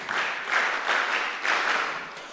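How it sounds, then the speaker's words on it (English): Students at a mentorship session clap for themselves, a brief burst of group applause that swells in a few uneven waves over two seconds with no voices. "Clap for yourselves."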